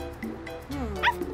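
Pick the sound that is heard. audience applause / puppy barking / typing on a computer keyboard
puppy barking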